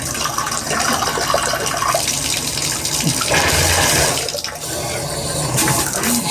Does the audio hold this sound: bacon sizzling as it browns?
no